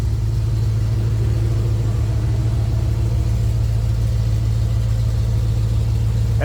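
A 1970 Chevrolet Nova restomod on a mild tune idles steadily with a deep, loud, continuous rumble, its low exhaust note holding even throughout with no voices.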